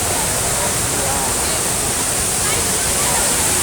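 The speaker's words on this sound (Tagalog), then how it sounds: "Yung tubig galing sa taas ng bundok yan. Rumaraga sa pababa dito." Majayjay Falls pours down from the mountain in a loud, steady, unbroken roar of rushing water, filling the scene with dense white noise at close range.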